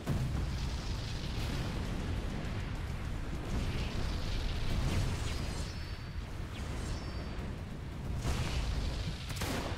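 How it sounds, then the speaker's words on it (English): A loud, sustained rumbling blast in the Roblox-style game Arcane Odyssey, likely from a magma conjurer's attack, fills the whole stretch with dense low roar and crackling bursts, no voices heard. "That explosion is probably the cause of the lag."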